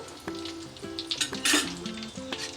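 Turmeric tossed into hot cooking oil for a Telugu yam and boiled-egg curry, a bright sizzle surging close by, with a few short clicks of a utensil against the pan around it.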